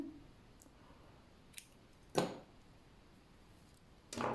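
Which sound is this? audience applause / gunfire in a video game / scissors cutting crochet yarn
scissors cutting crochet yarn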